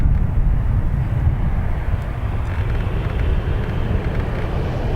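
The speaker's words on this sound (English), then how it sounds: "So we do have a Ryanair there making its way out." A Ryanair jet airliner taxiing out at Dublin Airport gives a constant deep rumble, close and fairly loud, with breezy wind noise mixed in and no talking.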